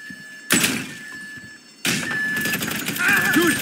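A door swinging open during a GTA 5 heist mission, heard as a sharp thunk followed by a second heavy clatter a moment later, with game ambience and faint voices in the background.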